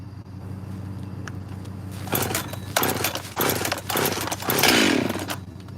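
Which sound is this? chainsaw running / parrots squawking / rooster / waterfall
chainsaw running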